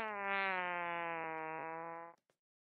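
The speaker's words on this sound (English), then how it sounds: "I want you to have this sad-sounding fart." A sad-sounding fart sound effect plays as one long, buzzy, slightly sagging tone lasting about two seconds before cutting off abruptly, followed by a tiny blip.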